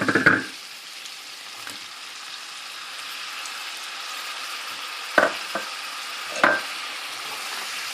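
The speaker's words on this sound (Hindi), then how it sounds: "अब मैं इसमें टमाटर डालूंगी" Spiced onion masala fries steadily in a pan for butter chicken, a continuous close sizzle with a sharp clatter at the start and a couple of brief stirring knocks later, no voices.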